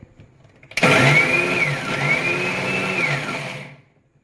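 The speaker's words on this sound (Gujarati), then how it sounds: "હું આને અચકચરા મિક્સરમાં એક એક આટો ફેરવી દઉં છું" A mixer grinder coarsely grinds fenugreek seeds, whirring up loudly and suddenly, rattling steadily for about three seconds, then winding down to silence.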